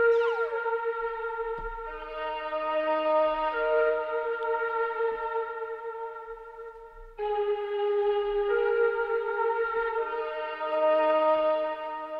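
Apache Native American Flute software instrument in FL Studio, playing sustained breathy flute notes in two long phrases with gliding pitch, solo and clear with a soft reverberant tail.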